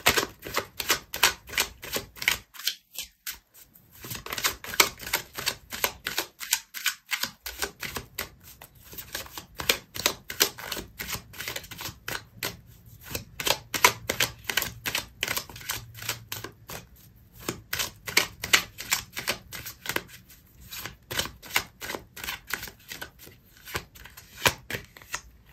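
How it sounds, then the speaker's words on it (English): Tarot cards are shuffled rapidly and continuously, with a dense, rhythmic flutter of riffling and slapping cards up close, broken by a few brief pauses as cards are handled and drawn. "so I'm going to pull out another card for you"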